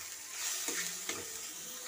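Turmeric and chili powder sizzle with fried ginger and garlic in a pan while being stirred, a steady close frying hiss with a couple of soft scrape accents from the stirring.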